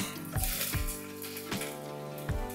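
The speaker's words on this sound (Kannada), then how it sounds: "ಸಣ್ಣದಾಗಿ ಎಲ್ಲ ಉದ್ದುದ್ದೇ ಹೆಚ್ಚಿರುವಂಥ ಈರುಳ್ಳಿನ ಹಾಕೋತಾ ಇದ್ದೀನಿ" Thinly sliced onions frying in an Indus Valley pressure cooker for veg pulao, with a steady, close sizzle broken by a few soft knocks and stirring clatters.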